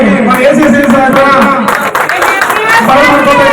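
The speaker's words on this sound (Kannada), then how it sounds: "ನೀವೆಲ್ಲರೂ ಚಪ್ಪಾಳೆ" Audience clapping at a block minority presidents' ceremony in Pulakeshi Nagar, a steady clatter of many hands filling the room alongside continuous talking.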